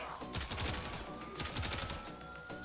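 The Incarnon Soma rifle fires in Warframe, a video game, in rapid, rattling automatic bursts of sharp shots that come in quick clusters and are fairly faint overall.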